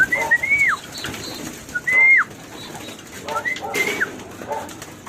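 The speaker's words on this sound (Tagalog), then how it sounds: "dapat nagkukumaos na pumasok ang mga kalapate" Pigeons in a loft give a few clear rising-and-falling coos and calls, spaced apart, with soft rustling and faint background noise between them.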